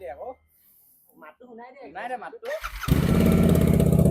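A GT Interceptor motorcycle engine starts up after a stretch of talking, then runs loud and steady close by, drowning out everything else.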